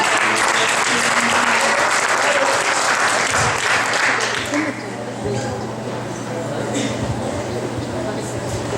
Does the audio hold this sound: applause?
yes